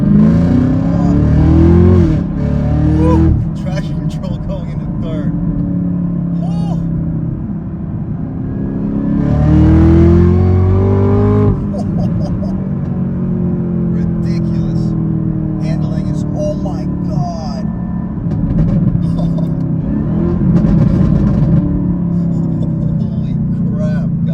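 A 2022 Chevrolet Camaro ZL1 accelerating in second gear at about half throttle, a loud engine roar rising and shifting in pitch, with a person talking over it.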